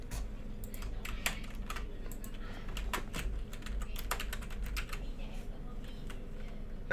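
Someone types a note on a computer keyboard, producing a close, steady run of quick plastic key clicks with irregular rhythm.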